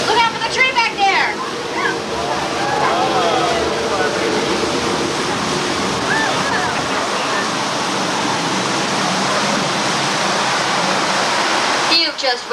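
Three thousand gallons of water rush down a hill during the 1992 Universal Studios tram tour, a loud, continuous roaring wash like a waterfall, with people's voices heard over it at the start.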